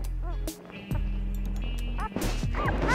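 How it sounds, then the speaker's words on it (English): Young sable puppies yip and whimper in short high bursts, close and loud, several overlapping cries with brief pauses, over a steady low hum. "They are some of the hungriest puppies I've ever seen, huh?"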